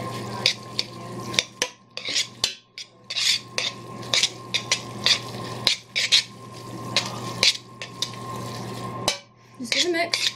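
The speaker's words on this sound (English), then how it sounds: "you just give this a mix" Sesame noodles tossed with small pork pieces are mixed in a pan, giving soft wet stirring swishes broken by frequent sharp utensil clinks against the cookware, close and moderately quiet.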